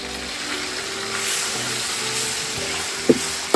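Chicken frying in a pan with ginger garlic paste, a steady broadband sizzle with a few sharp scrapes and knocks of stirring near the end, for a Kerala-style Hyderabadi dum biryani.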